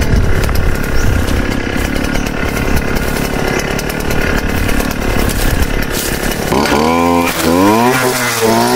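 A Stihl two-stroke engine grass cutter runs close by at a loud, steady buzz, then revs up and down in rising and falling sweeps near the end.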